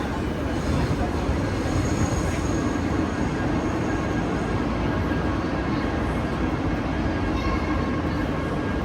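Continuous train and station rumble fills the platform area at Budapest Nyugati railway station, a loud steady low roar with faint higher squeals over it, no clear pauses.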